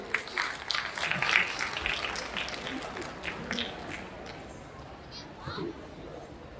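A crowd claps at a gathering honouring the late freedom fighter Banshidhar Das, with a burst of applause at first that gradually fades as children's voices and chatter carry on beneath it.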